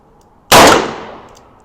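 A single sharp, very loud shot from a Taurus 692 3-inch revolver firing a +P cartridge, outdoors, with a ringing tail that fades over about a second.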